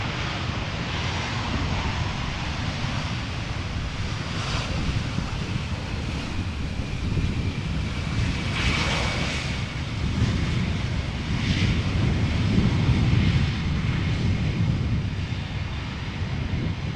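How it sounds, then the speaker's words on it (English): A Boeing 777-200 inbound from Guayaquil descends on the glide slope toward Schiphol, its distant jet roar a steady broadband rumble mixed with gusty wind buffeting the microphone throughout. "we might have already seen the 777-200 arriving from Guayaquil. That is also now on the glide slope."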